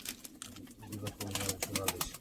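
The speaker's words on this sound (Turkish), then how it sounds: "Şimdi videoda bir kuş var" Soft, low pigeon coos repeat in short phrases, fairly close, with faint rustling and background noise between calls.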